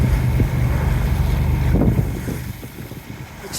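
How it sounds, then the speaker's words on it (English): Wind buffets the microphone while a sailboat heads into Helsinki on a very windy day, a steady low rumble and roar with water wash that holds loud throughout before easing slightly near the end. "So unfortunately it's very windy today coming into Helsinki."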